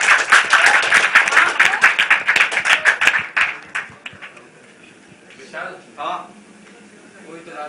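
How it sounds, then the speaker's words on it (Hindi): Audience applause at a press conference, a loud burst of many people clapping for about three seconds that quickly fades, followed by a quieter room with a few stray sounds and some talking. "गुड अटेम्प्ट, जोरदार तालियां हो जाए इनके लिए।"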